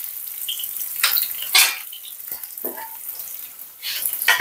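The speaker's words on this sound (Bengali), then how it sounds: "এই যে শাকটা তেলে দিচ্ছি, পেঁয়াজ রসুন দিয়ে আর আদা বাটা দিয়ে রান্না হবে শাক" Leafy greens hitting hot oil in a wok, cooked with onion, garlic and ginger paste, giving soft hissing sizzles and a few clinks of utensils in short bursts, fairly close, with no talking.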